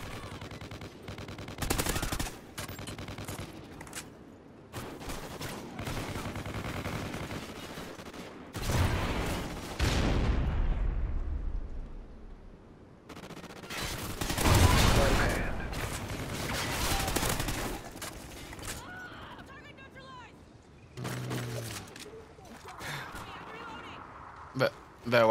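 Rapid gunfire in an online shooter game, bursts of automatic fire coming in loud clusters separated by quieter gaps, with players talking over parts of the action.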